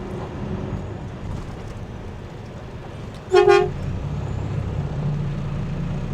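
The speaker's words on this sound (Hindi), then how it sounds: "मैं इसको हॉर्न मारूं" A single short, loud truck horn honk rises over steady engine rumble from a nearby idling vehicle.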